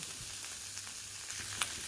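Bitter gourd and potato fry in fish oil with a soft, steady sizzle, faint and close, with a low hum beneath and one brief clink near the end.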